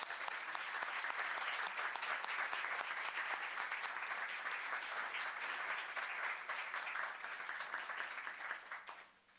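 An audience at an authors' gathering for students and staff gives a strong, sustained round of applause to welcome an author, many hands clapping evenly before fading out at the end.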